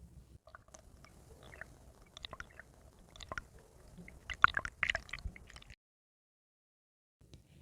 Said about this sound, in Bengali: আমড়াগুলো ভালোভাবে ধুয়ে পরিষ্কার করে